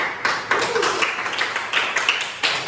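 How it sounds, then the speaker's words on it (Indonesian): Classroom applause for a student presenter: a short burst of many hands clapping together, steady and fairly close, with no voices over it. "Oke, aplaus untuk Panya."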